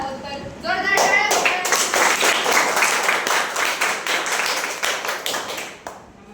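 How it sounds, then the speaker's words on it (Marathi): Loud, dense clapping from a school audience of students, a sustained burst lasting several seconds before fading, with a brief voice at the start. "तर जोरदार टाळ्या"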